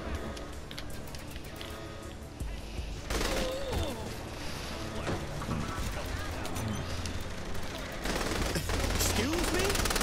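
Sustained gunfire and explosive crashes in the open-world shooter Saints Row: The Third Remastered, dense and loud throughout, with game music and character voices talking over the barrage.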